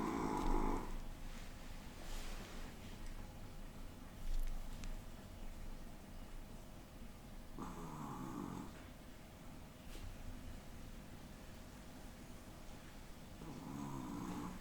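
A small chihuahua snoring indoors, with soft raspy breaths recurring every few seconds, some louder snorts among them, close and quiet with no talk.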